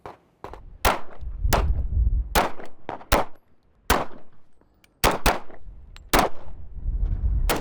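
Gunshots fired on a gun range, about a dozen sharp loud cracks in an uneven rhythm, each followed by a short ringing decay, with no talk between them.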